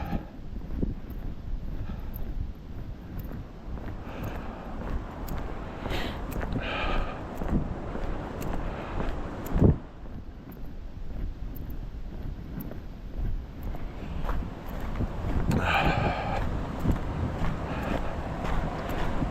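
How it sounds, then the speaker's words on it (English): Steady strong wind on a night walk in Maine buffets and rumbles across the microphone for a long stretch, low and blustery, with occasional louder gusts and faint background noise. "The wind is the problem right now."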